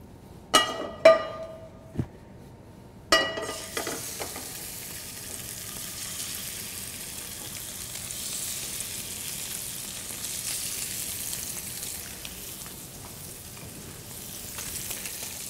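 Salmon, seasoned with salt, hits hot olive oil in a pan: a few sharp clatters and pops at first, then a continuous, even close-up sizzle that holds steady throughout.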